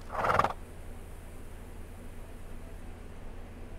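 A horse whinnies in the video game This Land Is My Land, one short loud neigh at the start followed by quiet hissy ambience.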